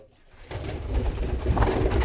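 Pigeons kept by a fancier coo softly nearby, low murmuring calls rising after a brief quiet start and continuing through the short moment.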